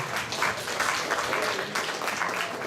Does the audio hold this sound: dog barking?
no